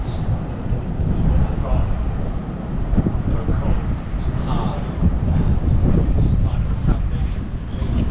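Strong wind buffets the microphone in a constant roar with gusty swells, close and loud, faint voices barely showing beneath it.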